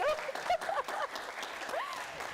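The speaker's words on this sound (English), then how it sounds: "thanks for the clap" Brief, fairly quiet clapping from a lecture audience welcoming a design and technology speaker, with a few whistle-like tones over the sparse applause.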